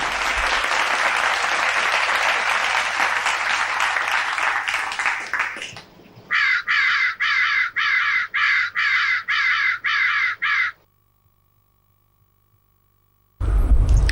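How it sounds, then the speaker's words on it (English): A crow caws loudly about eight times in a steady rhythm, following a burst of applause that fades out, then silence. "It's the sound of crow."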